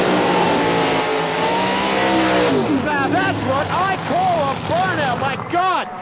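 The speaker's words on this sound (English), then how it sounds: "Now that's what I call a burnout." A 1967 Camaro drag car doing a burnout at the start line, its loud engine roaring steadily and then surging in rising, revving bursts with rear tires boiling. A commentator talks over it.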